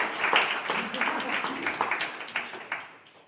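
A seminar audience giving scattered applause, individual claps rising irregularly from a room of listeners and tapering off as the clapping thins out, with talk mixed in.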